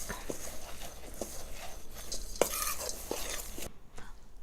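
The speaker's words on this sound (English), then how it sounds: "I'll just get all my dry ingredients in a bowl and stir them about." A spoon stirs dry cookie ingredients, oats and cocoa among them, in a bowl, giving soft rhythmic scrapes and a few light knocks against the sides, close but quiet, with no talking.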